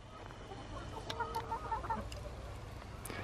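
Naked neck chickens cluck in a shaded coop, a short run of soft repeated clucks rising briefly over steady low background noise.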